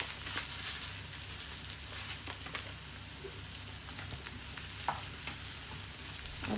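Cumin seeds frying in oil in a pan, a quiet continuous sizzle with scattered small crackles and a few stirring clicks.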